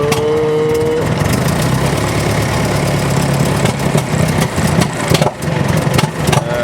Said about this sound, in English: It's backfiring. I think it needs adjusting.